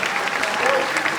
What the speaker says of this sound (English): how about another round of applause for the 6th grade?